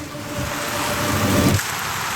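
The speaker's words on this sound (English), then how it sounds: "It was pouring rain. A thunderstorm in January." Heavy rain pours steadily during a January thunderstorm in Michigan, a dense continuous wash of close rainfall with a low rumbling swell that cuts off near the end, no voices.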